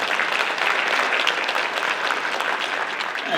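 Steady, dense clapping from an awards ceremony audience honoring high school female athletes, continuous and even throughout with no speech on top.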